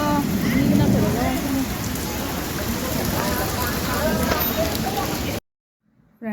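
Heavy rain pours steadily, a dense loud hiss of drops hitting surfaces, with faint voices under it before it cuts out abruptly near the end.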